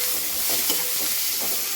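Chopped coriander is sautéed in a pan for policha bhuga, giving a steady, close sizzle with soft scraping stirs rising and falling throughout.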